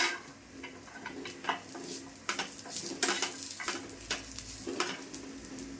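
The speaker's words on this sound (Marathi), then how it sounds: "कांदा भाजा थोडा लालसर झाला आहे आता मी आलं टाकते आणि लसूण" Onion with ginger and garlic frying in a pan for egg curry: a soft continuous sizzle with scattered light utensil taps and stirring scrapes, fairly quiet and close, no talking.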